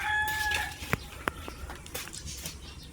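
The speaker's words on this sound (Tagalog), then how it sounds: "Ito yung mga Brahma ko." Brahma chickens in a backyard flock, with a couple of short sharp clucks and calls standing out over a steady farmyard background of low rumble and distant bird noise.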